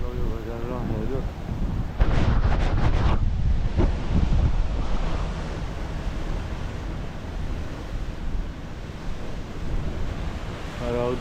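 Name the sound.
force 8 wind and waves at the Maltese coast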